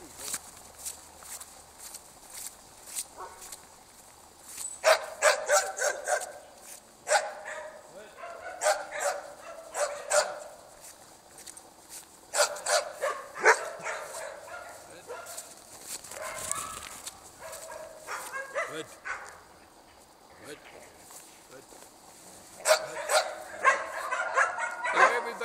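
A male Swedish Elkhound (Jämthund) on a leash walk, whining and yipping with bursts of barking that come and go, close by, with footsteps and some talking in the background.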